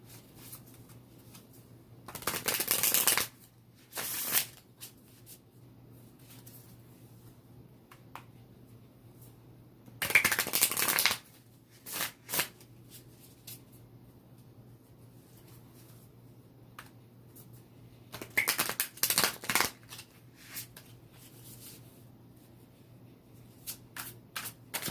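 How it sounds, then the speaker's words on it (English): A deck of cards is shuffled in several quick riffling bursts, each a sharp crackling flutter lasting a second or so, separated by long quiet gaps, close to the microphone. "I'm going to shuffle them."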